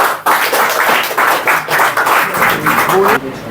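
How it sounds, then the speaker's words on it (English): An audience claps together in a lecture or public-speaking session, a dense burst of applause that starts suddenly and holds for about three seconds before cutting off, mixed with voices. "Clap for me."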